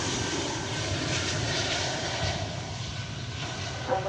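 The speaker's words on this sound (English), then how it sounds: "It's an Airbus A321." An American Airlines Airbus A321 jet airliner at Dallas Fort Worth Airport, giving a continuous broad engine roar that holds steady and then eases slightly, with a sharp bump at the end and no voices.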